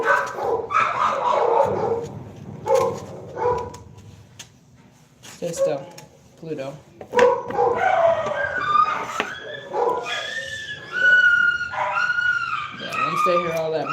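Dogs bark, yip and whimper at close range, mixed with a person speaking over them.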